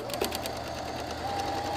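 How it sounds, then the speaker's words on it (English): Sewing machine stay stitching along the neck edge of a jacket, a quiet, rapid, even rhythmic whir of the needle close by. "So I'm stay stitching."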